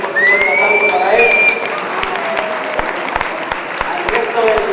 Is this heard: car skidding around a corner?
no